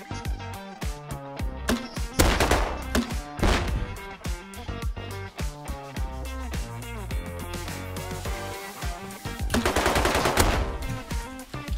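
MP5 submachine gun fire in a shooting video game on an oil rig, with rapid, loud, close bursts of shots cracking repeatedly across the whole stretch and a denser flurry near the end.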